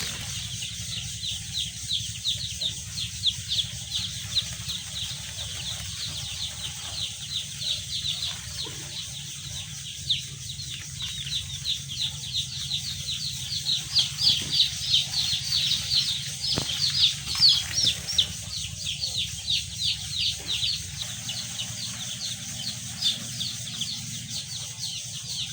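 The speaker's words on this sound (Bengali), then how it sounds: "মুরগিগুলো খুবই ভালো আছে" Brown cockerel chicks, a flock of about a thousand on a poultry farm, peep and chirp in a dense, continuous chorus that stays close and steady throughout, with no voices.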